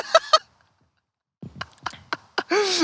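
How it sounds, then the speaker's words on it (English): A goose honks several times outdoors in a park-like setting, loud harsh calls in short bursts with gaps between, the last one longer and drawn out. "There's a fucking goose over there."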